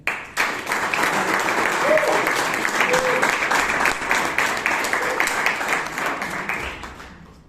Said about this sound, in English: Please give a round of applause for Mr. Vivek Vijayan.